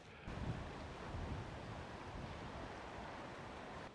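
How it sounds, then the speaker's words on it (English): Steady gusting wind roars over open water, buffeting the microphone with a low rumble and faint wave wash, no voices. "We've suddenly got some gusts of wind coming down the river right now"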